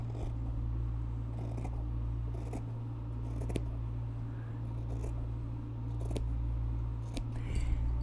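Regular household scissors cut through pant fabric in a series of separate crisp snips, spaced irregularly and close, over a low steady background hum.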